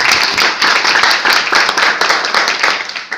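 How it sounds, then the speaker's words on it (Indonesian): Audience clapping at an indoor company meeting, a dense burst of many hands applauding together, loud and close, sustained throughout the moment. "Berikan aplaus untuk kita semua."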